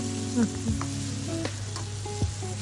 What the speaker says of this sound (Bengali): সো আমরা আলু ওখানে দিয়ে দিলাম, আলু শিম।